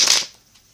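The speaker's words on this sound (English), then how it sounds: "what I'm doing now is shuffling my tarot cards for you" A deck of tarot cards being shuffled by hand, a single brisk riffle of papery flicks up close that fades quickly into quiet.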